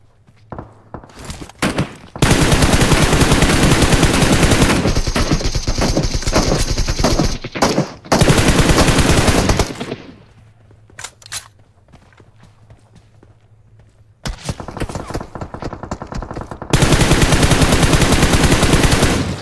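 Gunfire in the video game PUBG played on a Poco X3 phone: long, loud bursts of rapid automatic fire broken by quieter gaps with footsteps and thuds, then more sustained shooting.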